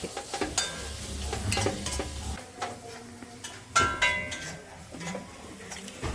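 Beef masala frying in a hot pan is stirred, giving scattered scrapes and clatters of the spoon against the pan over a faint, steady sizzle.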